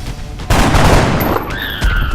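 Gunfire in the XCOM Enemy Within video game: a loud, dense burst of shots with booming impacts carrying through a couple of seconds, then electronic tones come in near the end.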